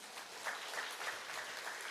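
A church congregation at a Korean church in Bali claps together after a sermon remark, steady dense applause filling the room at a moderate, somewhat distant level.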